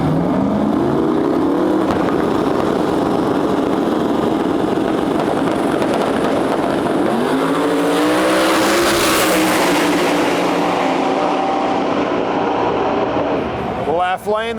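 A 1994 SN95 Mustang with a turbocharged 5.3 V8, air-to-air intercooler and E85 fuel roars through a drag race pass, loud engine rising in pitch through gear changes with an announcer talking over it.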